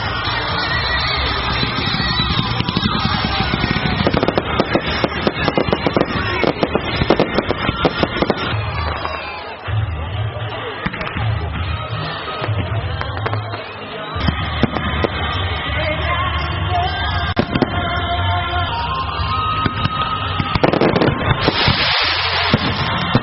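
Fireworks closing an opening ceremony in a crowd setting, a dense continuous barrage of crackling bursts and pops, loud and sustained, with spectators' voices faintly mixed beneath.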